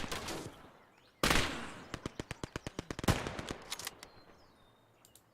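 Video game gunfire: a rapid string of about a dozen sharp, close shots in quick rhythm, preceded by a loud blast and followed by a few scattered shots and faint background battle noise.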